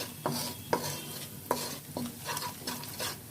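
Spices frying for achari begun, stirred in a hot pan with a steady sizzle and repeated sharp spatula scrapes and knocks against the pan, close and fairly loud.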